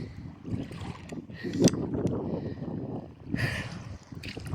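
A small wooden outrigger boat moving through choppy water near a beach, with close splashing and sloshing against the hull and gusty wind buffeting the microphone.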